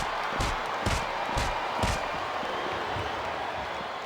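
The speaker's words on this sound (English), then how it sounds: "It sounds like this capacity crowd has something on their minds" Capacity arena crowd in WWE SmackDown vs Raw 2007 roaring in a dense, continuous wash of noise, with a few rhythmic stomping or clapping pulses early on.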